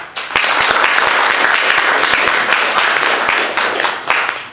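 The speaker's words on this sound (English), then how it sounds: "Let's give a round of applause for that." A crowd applauds continuously, dense clapping at steady loudness that tapers briefly near the end before picking up again.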